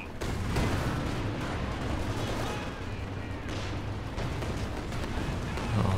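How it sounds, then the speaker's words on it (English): Rocket artillery in Company of Heroes 2, a 3v3 forest battle: a constant rumbling wash of distant launches and blasts, steady and moderately loud with no clear gaps, with faint speech underneath. "it's so hard to keep track of where all this rocket artillery is flying"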